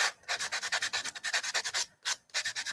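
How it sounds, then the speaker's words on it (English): Sandpaper rubs quickly back and forth along the edges of a craft piece, a close run of about twenty short, raspy strokes in a steady rhythm with brief pauses, no voices. "I'm just sanding my edges so that they're not like rough"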